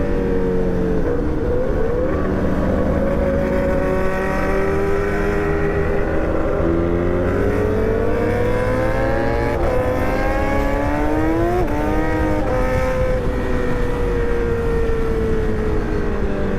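A Yamaha R6 motorcycle engine revs loud and steady with the clutch slipping, its pitch rising and falling in long sweeping runs close up, with no talk over it.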